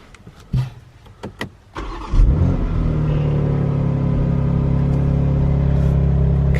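A few faint clicks and taps, then a BMW X3 M Competition SUV engine starts and settles into a steady deep rumble, heard close and muffled from inside the cabin.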